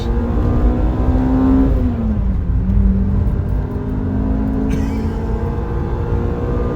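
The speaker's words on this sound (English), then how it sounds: "we'll do a little bit of a pull here quickly" A Toyota RunX TRD engine pulls hard under load, its droning tone rising, dipping at a clutch shift, then climbing again, loud and close from inside the cabin.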